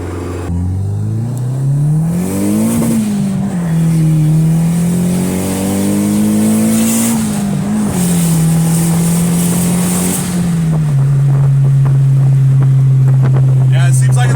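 A turbocharged car on an eBay turbo at 7.5 psi of boost accelerates hard with a loud, close engine drone whose pitch climbs and shifts through gears as the tires slip, with wind rush and a voice over it.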